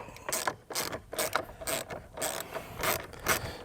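Ratcheting tool undoing bolts on the steering wheel of a 2005–2015 Mitsubishi Triton, with short bursts of close, rapid clicking repeated in a stop-start rhythm and no speech.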